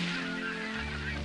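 Squawking bird in the Chronicles of Mystery: The Scorpio Ritual adventure game, a continuous harsh honking call like a goose or gull, loud and close, running unbroken with no talk over it.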